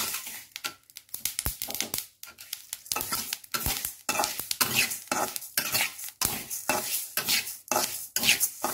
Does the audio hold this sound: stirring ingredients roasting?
yes